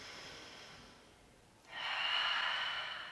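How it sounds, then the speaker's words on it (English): A single deep breath during a yoga session: a soft, airy intake that swells into a louder, steady exhale, close and alone. "Take a couple breaths here."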